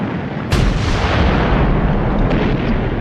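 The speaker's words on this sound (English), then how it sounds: "When the British guns opened up on the Somme on the 24th of June 1916, the windows rattled in London 160 miles away." British artillery guns firing on the Somme in 1916 open with a sudden heavy boom, followed by a dense, continuous roar of distant gunfire and rumbling blasts.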